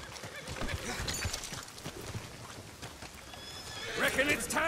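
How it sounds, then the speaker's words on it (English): Horse neighs and clip-clop hooves from Red Dead Redemption 2, heard among the noise of a gunfight, with a louder whinny near the end of the clip and talk mixed throughout. "See the horses?"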